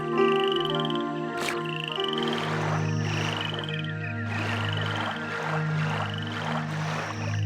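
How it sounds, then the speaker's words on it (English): Frog in a swamp in King's Quest VIII: Mask of Eternity, croaking in a series of repeated rattling calls over sustained background music, fairly loud and close. "Is that a frog over there?"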